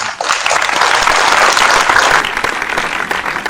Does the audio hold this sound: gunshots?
no